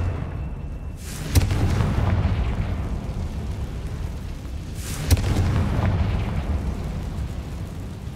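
Two booming Confringo fire-spell explosions in Hogwarts Legacy, each a sharp blast followed by a long rumbling fiery roar that slowly fades, the second arriving about four seconds after the first.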